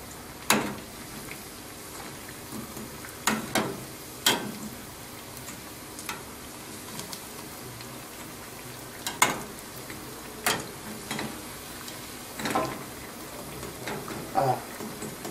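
Polenta potato patties fry in hot ghee, giving a quiet, steady sizzle broken by scattered sharp crackles and pops at irregular intervals, with no voices.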